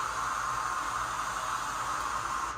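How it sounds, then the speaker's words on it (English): White noise sample triggered on a Pioneer DDJ-FLX10 DJ controller, a steady loud hiss held evenly for a couple of seconds before cutting off, with no talking. "Another sample that could be used is noise if you want to add extra impact to a certain section or a break."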